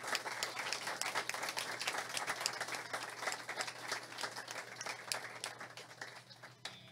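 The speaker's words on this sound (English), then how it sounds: "Can we give them a round of applause?" An audience at a PRS guitar clinic held at Pitbull Audio applauds steadily, a dense sustained clapping that holds for several seconds and then begins to thin toward the end.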